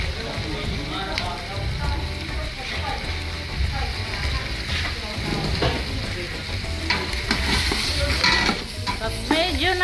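Pork frying in a pot for a boiled pork and corn dish, a steady close sizzle with stirring clatters and scrapes, while people talk throughout.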